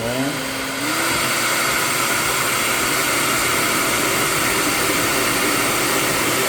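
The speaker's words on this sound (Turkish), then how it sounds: "Bir tane çubuğunu açalım ve fön makinemizin hepsini açalım şöyle." A hair dryer powered through a 12V 6000W full sine wave inverter runs at full setting, rising from a lower whir into a loud, steady high-pitched roar that continues unbroken and close.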